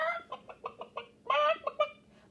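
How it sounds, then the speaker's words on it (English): A hen clucks in a quick series of short, close calls, ending with a louder drawn-out cackle and a few more clucks. "What kind of noise do chickens make?"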